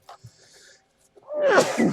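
A single loud sneeze bursts out near the close after a quiet stretch with faint small noises, harsh and breathy, rising and then trailing off.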